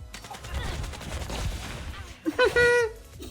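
Triple grenade blasts in the mobile battle game Zooba burst in quick succession amid busy gunfire and game effects, with a bright rising chime after the explosions.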